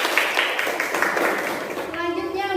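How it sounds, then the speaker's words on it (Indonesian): A classroom of children claps for a student group after a project presentation, with a dense, steady patter of many hands continuing throughout, close and fairly loud, and a voice rising briefly near the end. "Berikan tepuk tangan untuk kelompok 3"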